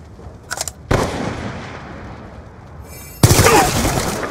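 Gunfire rings out in the video game Call of Duty: Black Ops II, with a sharp close shot followed by reverberating noise, then another loud blast with a clattering tail.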